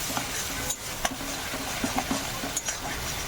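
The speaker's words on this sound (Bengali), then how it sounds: "বাটারটা মেল্ট হয়ে গেল, এর মধ্যে দিয়ে দেবো অল্প পরিমাণে রসুন বাটা আর আদা বাটা। এবার এটাকে ভালো করে কষিয়ে নেব।" Garlic and ginger paste sautés in melted butter, with a soft background sizzle broken by repeated stirring scrapes and light spoon taps against the pan; no voices.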